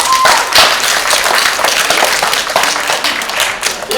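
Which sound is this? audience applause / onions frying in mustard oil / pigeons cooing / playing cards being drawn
audience applause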